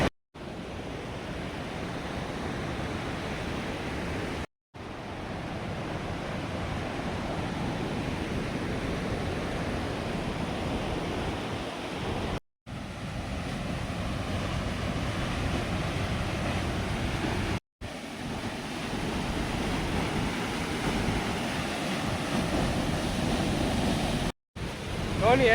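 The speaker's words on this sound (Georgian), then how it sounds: "ისმოდა ამ ჩანჩქერის ყარო" Roaring rush of Lagodekhi's Rochos waterfall, a steady, loud broadband wash of falling water that runs continuously throughout, broken only by a few brief cuts to silence.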